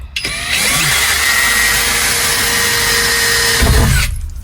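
Power drill boring a pilot hole through the metal roof of a camper van, a loud, steady whirring grind lasting a few seconds before cutting off abruptly, close up with no talk.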